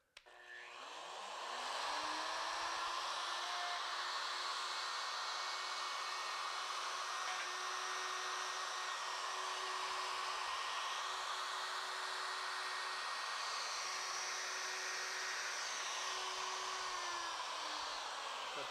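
A wood router fitted with a compression bit cuts a mortise, a steady loud high-pitched whine that spins up in the first two seconds and holds constant throughout, close and alone.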